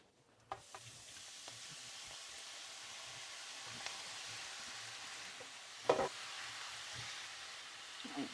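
Hamburger meat searing in a pot with bay leaf and rosemary, a low, steady sizzle with a few soft clinks of a utensil, close and quiet.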